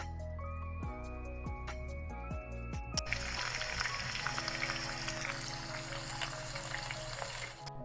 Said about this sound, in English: When you fry, be sure you're frying on medium heat.